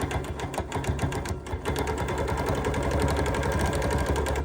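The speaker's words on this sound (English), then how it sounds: "So I can just go ahead, lower my presser foot and stitch" A Q series quilting sewing machine stitches through quilt sashing, a fast even mechanical chatter with a steady motor hum running unbroken and loud nearby.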